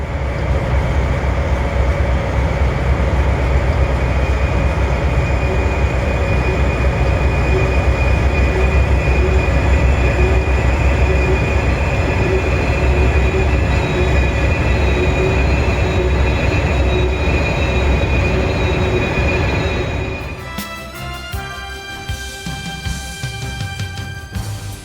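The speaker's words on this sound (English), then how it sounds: "After the train winds its way through the tunnels, it reaches Coleman Siding where it meets a westbound mixed freight." A train runs steadily and loudly through tunnels and railway loops at Old Fort, with a continuous rumble and wheel noise that shifts abruptly near the end into squealing, screeching metallic tones.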